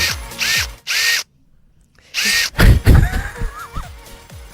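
A power drill whirring in several short bursts, each a high-pitched motor whine that starts and stops abruptly, with a brief silent gap in the middle followed by clattering handling noise and further loud revs.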